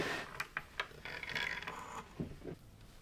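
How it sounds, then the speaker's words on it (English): A knitting machine linker is cranked forward while finishing a hooded scarf seam, giving faint, close mechanical clicks and a grinding ratchet-like whir that rises and falls over a few seconds. "Then I need to advance the linker so I can get the whole piece off the machine."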